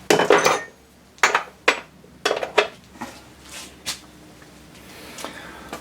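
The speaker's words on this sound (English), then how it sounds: "And now I'll just tighten up the engraving bit in the cutter head." An engraving bit is tightened in the cutter head of a milling setup on an ML7 lathe, making a series of sharp metallic clinks and taps. The strikes come in irregular bursts and fade to softer knocks toward the end, with no talk.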